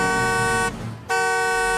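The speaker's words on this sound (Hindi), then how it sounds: "सूरज ने हॉर्न दिया और आगे बढ़ गया।" A car horn blares in one steady, loud blast, briefly cuts out, then sounds again just as strongly, with no voices.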